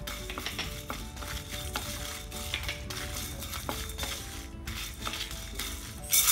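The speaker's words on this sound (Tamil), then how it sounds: "எண்ணெய் சேர்க்க வேண்டாம், ட்ரையாகவே வறுத்துடலாம்." Spices and lentils, coriander seeds, chana dal, urad dal, cumin, fenugreek and fennel, dry roasted in a pan without oil, with light clinks and scraping stirs over a soft, continuous rustle.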